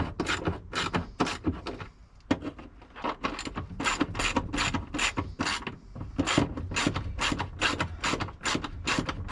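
Brisk ratcheting of a wrench tightening 13 mm bolts on a Jeep Wrangler YJ steering column, a long train of loud, rhythmic clicks close by with a short pause partway, no talk.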